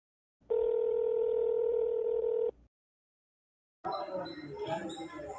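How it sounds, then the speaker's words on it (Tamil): A telephone tone sounds steadily for about two seconds during a phone call, then cuts off; after a pause a voice talks over the line. "இதடா ஃபோன் பண்றா அவருக்கு."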